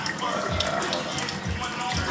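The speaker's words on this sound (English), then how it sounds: "we're gonna put new sink water in here so you can actually see it live" Tap water running steadily into a kitchen sink, a continuous broadband splash at moderate level with no talk over it.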